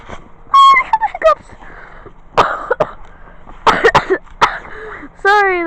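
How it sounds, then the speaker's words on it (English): A person with a cold coughs and clears their throat in several short, loud bursts, mixed with bits of speech and pauses. "Sorry that I might be coughing."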